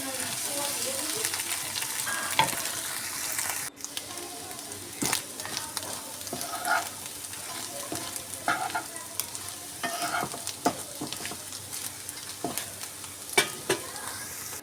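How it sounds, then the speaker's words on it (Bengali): Egg and potato stirred and fried together in a pan, a continuous soft sizzle broken by frequent spatula scrapes and knocks against the pan, with no talking. "এইভাবে আলুটার সঙ্গে নেড়ে চেড়ে ভালো করে ভেজে নেব।"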